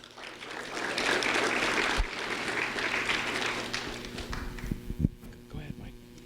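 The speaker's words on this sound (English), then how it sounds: "a round of applause for Gabrielle Muniz," Audience applause for Gabrielle Muniz, a student honored by the Sheriff's Office at a recognition event, a steady wash of clapping that thins out, followed by footsteps, scattered taps and voices talking nearby.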